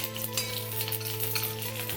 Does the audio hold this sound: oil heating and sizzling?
yes